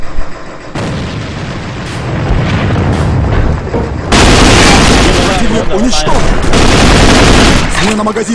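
A grenade explosion in the game AVA: loud explosive booms and bursts of gunfire with voices shouting over the dense, chaotic combat noise.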